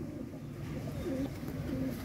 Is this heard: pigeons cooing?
yes